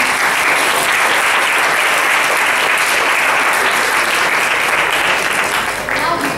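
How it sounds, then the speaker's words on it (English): A conference audience gives a delegation a loud, sustained round of applause at a student dialogue event, steady dense clapping for over six seconds that tapers slightly at the end. "Can we have a round of applause for the delegation?"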